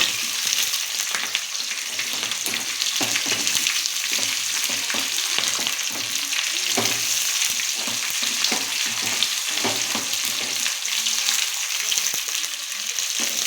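Onions frying in a pan for rava upma, a dense close sizzle with repeated scraping stirs at an uneven rhythm, loud and steady throughout, no voices.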